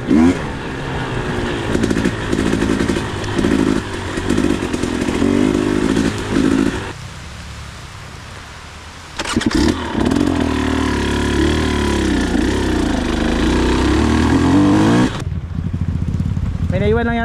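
Enduro motorcycle revving hard on a trail in the Philippines, a loud, close engine that surges and drops, dips briefly to a lower hum midway, then roars back under occasional voices.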